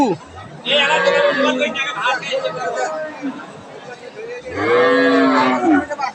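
Cows moo loudly at a busy livestock market, one long bellow opening the stretch and another near the end, with crowd chatter and voices murmuring between the calls.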